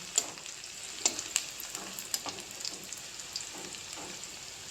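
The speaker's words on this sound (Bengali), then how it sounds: "দিয়ে একটু লাল লাল করে ভাজি করে নেব" Chopped onions fry in hot oil in a pan for a fish recipe, giving a soft steady sizzle with a few sharp pops and clinks near the start, fairly quiet and with no voices.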